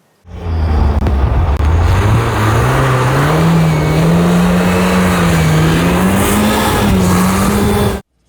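Rally sprint race car engines roar continuously at a stadium championship, one loud close engine revving and rising in pitch, then holding a high steady drone before cutting off.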